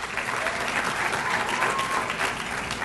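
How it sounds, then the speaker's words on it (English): Sustained applause from an audience at an athletic hall of fame ceremony honoring a women's tennis inductee, dense, even clapping filling the whole moment without a break. "please give her a round of applause"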